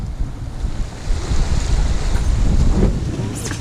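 Choppy, confused sea off the coast of Belgium rushes and slaps against a sailing boat while steady wind roars across the microphone throughout.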